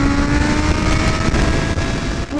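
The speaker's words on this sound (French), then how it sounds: "Bâtard ce bruit de turbine." A Kawasaki Z H2 motorcycle's supercharger whines loudly over a roaring engine and wind rush, held steady and close throughout the short ride.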